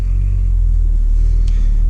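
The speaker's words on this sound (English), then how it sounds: "You really hear a rumble of the car as soon as you start it up." A 2018 Ford Focus RS Black Final Edition engine gives a loud, deep, steady rumble heard up close for a couple of seconds, with no talking.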